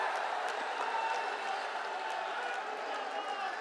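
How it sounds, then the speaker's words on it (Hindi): Crowd at a BJP Jan Vishvas Yatra rally in Pilibhit applauding a welcome, a continuous wash of clapping and cheering held at an even level throughout. "जोरदार तालियों से स्वागत करें"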